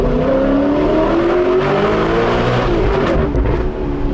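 An Alfa Romeo 8C Spider revs hard close by, a loud continuous engine roar with rising and falling pitch and crackling exhaust pops toward the end.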